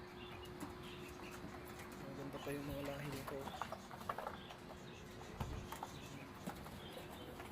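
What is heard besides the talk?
pigeons cooing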